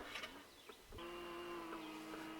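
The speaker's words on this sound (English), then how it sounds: "the reason it's squeaking so bad is because, well, the guy who unloaded it was a little bit impatient and bent some of the pickups" A John Deere 336 hay baler with bent pickup tines gives off a faint squeaking, scraping whine, a few brief chirps followed by a sustained high-pitched squeal over low machinery hum.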